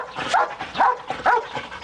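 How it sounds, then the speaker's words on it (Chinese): Dogs bark in a police dog kennel dormitory, three sharp barks spaced about half a second apart, close and fairly loud with a slightly whimpering edge. "四周的狗狗全都在狂吠"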